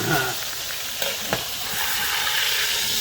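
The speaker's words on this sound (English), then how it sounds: "then deglaze the bottom of my pan" A hot pan being deglazed after searing pork, a loud, dense sizzling hiss that holds steady for a few seconds, close up, with a brief clink near the middle.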